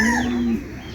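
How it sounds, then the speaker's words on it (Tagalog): A pigeon in a breeding loft gives a single low, steady coo, held for about half a second before it stops, close and clear over a hazy background. "Morris Gordon Josephine line mga kalapatids, pure. Ito yung ibon natin na to"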